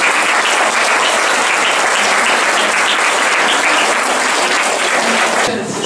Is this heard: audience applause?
yes